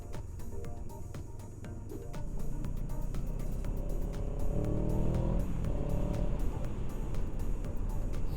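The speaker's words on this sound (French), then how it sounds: "Elle a un beau bruit qui sort du pot." A CFMOTO 700 CL-X Heritage motorcycle's exhaust drones steadily while riding, a low engine note swelling slightly as it revs, heard faintly beneath wind noise.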